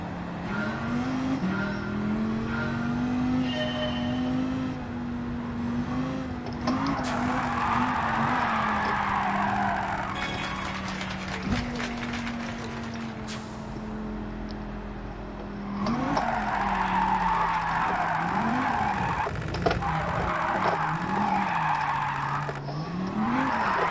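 Gran Turismo 7 race car drifting, with a steady engine drone, long tire squeal and skid noise, and gear changes that shift the pitch. The engine runs loud and close throughout, with no talk over it.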